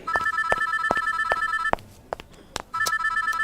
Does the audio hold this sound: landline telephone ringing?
yes